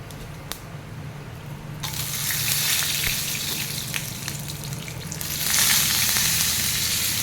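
Loud sizzling of oil as dry red chillies and curry leaves are added rises suddenly, swells again a few seconds later, and crackles steadily throughout with no talking.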